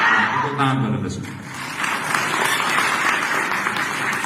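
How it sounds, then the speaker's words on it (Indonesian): An audience at a business success seminar breaks into applause. A voice speaks briefly at first, then broad, steady clapping fills the room and keeps going to the end. "Tepuk tangan Bapak Ibu."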